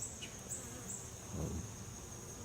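Honey bees buzz around a beehive during a backyard hive inspection, a faint steady insect drone with one louder pass from a nearby bee midway.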